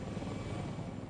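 Helicopter rotor and engine roar from an evacuation flight in Vietnam, a steady dense low thrum with no breaks.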